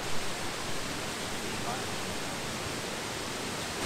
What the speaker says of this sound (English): You can see the waterfall's way bigger than I thought it was.